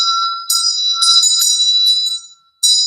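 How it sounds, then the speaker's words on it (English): A bell rung several times at the close of a book reading, with clear sustained ringing tones in bursts separated by short pauses, heard alone without talk. "We'll ring the bell right here."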